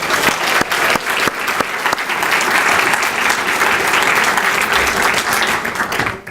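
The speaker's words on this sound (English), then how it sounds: "please join me in giving a round of applause to the catering staff and bartenders this" A room of guests at an alumni volunteer service awards ceremony gives a loud, sustained round of applause, dense clapping filling the whole stretch with sharp individual claps near the start.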